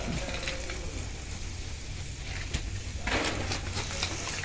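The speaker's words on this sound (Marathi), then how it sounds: "पंधरा वीस मिनटांसाठी आम्ही ह्यावर कौलांवरती याला शॅलो फ्राय करणार आहोत" Marinated prawns shallow-frying on hot clay roof tiles give a steady, dense sizzle throughout, with a brighter crackling burst near the end and no voices.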